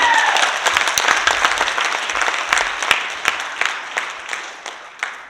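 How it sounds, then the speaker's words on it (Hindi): Loud, dense applause from an audience at a business presentation in Delhi, sustained claps blending into a continuous wash with a few sharper individual hits, fading slightly toward the end. "जोरदार तालियां जिंदा लोगों के लिए, जोरदार तालियां"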